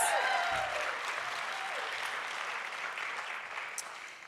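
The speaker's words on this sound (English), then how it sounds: "Let's give her another round of applause." Audience applause fills a college convocation hall, a steady dense clapping from a large crowd that holds fairly even and slowly tapers, with no talking over it.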